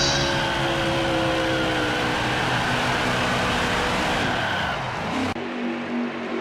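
NASCAR Xfinity race cars at Las Vegas Motor Speedway in the NASCAR Heat 5 video game, a loud, continuous engine roar with layered whining tones that fades and drops away sharply near the end.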